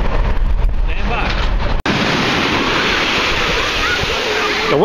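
Ocean waves wash steadily onto a beach in broad, continuous surf noise, fairly loud and close, with a brief gap partway through and faint voices in the background.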